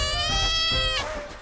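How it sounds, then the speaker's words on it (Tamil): A cat meows once from an in-game cat bundle in a mobile video game, a loud, clear, drawn-out synthetic-sounding meow that bends downward near the end, heard alone. "சரி இந்த பூனை பண்டில் எடுத்துடலான்னு பார்த்தேன்."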